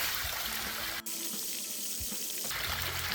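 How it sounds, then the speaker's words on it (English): Dirty pool water gushing out of a backwash hose, a loud continuous rushing splash with a brief dip and shift in texture partway through. "everything that you cleaned out of your pool that your filter captured is being expelled with the dirty water right now"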